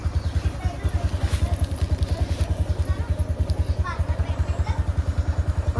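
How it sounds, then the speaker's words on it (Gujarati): A motorcycle engine running with a steady, rapid low thumping pulse throughout, close by, while people talk over it. "બાઈક તો પાછું પાછું જાય છે."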